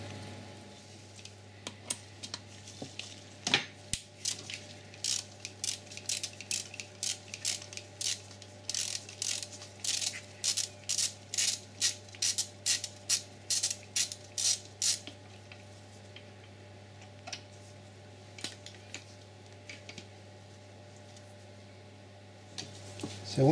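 A ratchet works hex size 8 bolts loose while removing the turbocharger from an Audi RS6 (C5): rapid bursts of sharp, even clicks come in runs, then sparser ticks, close by over a steady low hum.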